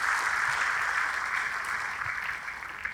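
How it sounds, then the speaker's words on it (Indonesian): Applause fills a church, a steady, dense wash of clapping from a congregation held evenly throughout at a moderate distance, with no talk over it. "Tepuk tangannya yang paling meriah buat Tuhan kita."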